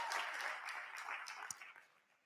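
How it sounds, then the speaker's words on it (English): Scattered clapping from a school group for the basketball team rises briefly and then fades out toward the end. "And we can clap for the basketball team and Mitch."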